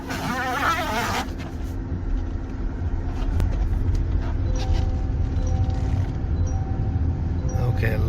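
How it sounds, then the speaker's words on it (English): A 2013 Kia Optima Hybrid with generator motor position sensor fault codes sets off on a test drive, a steady low rumble of engine and road noise that runs throughout, with a voice briefly speaking at the start. "Now I'm about to take the car in a test drive"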